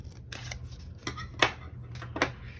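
Scissors snip through alcohol ink paper in a few sharp, close cuts spaced about half a second apart, with a low steady hum underneath.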